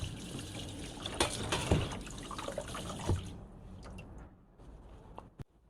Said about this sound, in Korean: 마지막으로 깨끗한 물로 헹궈주세요